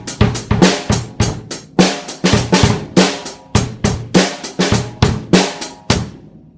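Rock drum beat variation with 16th notes on a drum kit, played loud and close: driving kick and snare with quicker subdivided hits between them in a steady groove, alone without talk.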